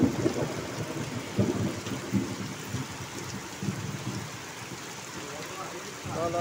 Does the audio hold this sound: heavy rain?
yes